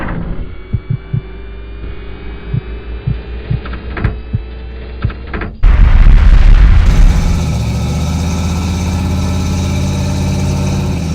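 A junkyard car given a motor swap, running for the first time since 1993: low rhythmic throbs and clicks at first, then the engine catches and settles into a loud, steady droning idle hum.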